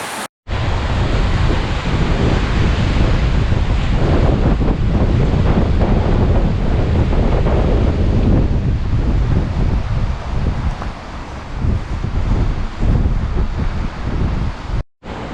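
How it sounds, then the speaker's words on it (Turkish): Strong wind buffets the microphone in a constant heavy roar on the Aegean coast at İnceburun, Datça, with surf rumbling underneath and gusts rising and falling. "kuvvetli bir rüzgar var"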